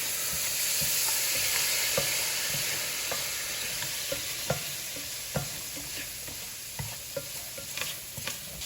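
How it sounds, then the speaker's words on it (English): A pan sizzles steadily with oil and spices as red wine vinegar goes in, while a utensil scrapes the bottom in short, irregular strokes, near and fairly loud, with no talking. "Add my red wine vinegar. Scrape it all up."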